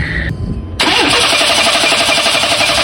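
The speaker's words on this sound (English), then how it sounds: "I'm gonna hit the key and give her a crank" An engine cranks briefly with the key, then catches and roars into a loud, steady idle that continues to the end.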